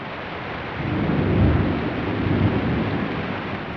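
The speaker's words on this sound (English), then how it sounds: "These tropical rains that feed Lake Victoria, one of the largest lakes in the world, pour down from the high peaks of Africa at certain times of the year." A tropical rainstorm in Kenya near Lake Victoria pours down as a steady hiss of heavy rain, while a deep roll of thunder swells and rumbles through the middle.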